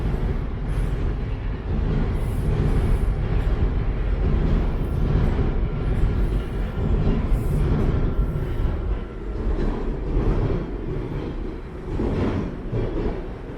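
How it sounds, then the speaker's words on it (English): A Toronto subway train rumbles past at close range, a loud low roar with rattling and squealing wheels that rises and eases over several seconds. "you can see a train heading towards downtown"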